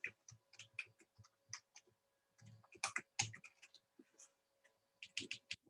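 Computer keyboard typing in short irregular bursts of crisp clicks, moderately close and clear, with brief pauses between runs of keystrokes and no talking.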